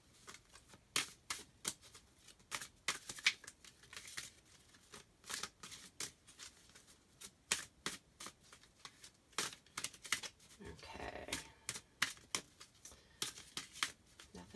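Tarot cards are shuffled by hand in a run of soft, papery riffles and slides, close and quiet, coming in repeated bursts with no voices.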